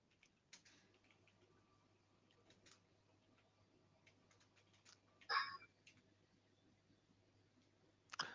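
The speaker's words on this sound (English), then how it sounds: "Busy typing, hang on." Soft, irregular keyboard typing clicks, faint and sparse, with a couple of louder bursts of keystrokes over a quiet hum during an online technical meeting.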